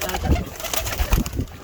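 A single pigeon offered for sale at a bird market coos in soft, low, throaty bursts, repeating a few times at close range against a busy background.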